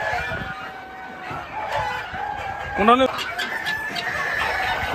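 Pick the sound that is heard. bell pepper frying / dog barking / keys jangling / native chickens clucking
native chickens clucking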